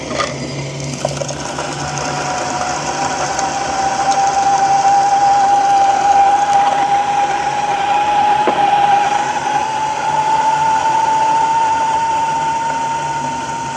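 Coffee grinder grinding an 18-gram dose of beans for espresso: a steady, close motor whine with a rough grinding texture, running unbroken for the whole stretch with no voices.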